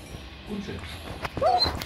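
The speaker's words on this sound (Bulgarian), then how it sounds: "Куче." A dog in the video game Minecraft gives a short whimpering yip near the end, set against faint background noise and a few brief sounds.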